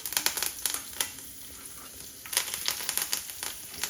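Curry leaves sizzle loudly in hot oil as the final tempering for a smoky brinjal chutney, with bursts of crackling and spitting that ease briefly in the middle, then flare up again.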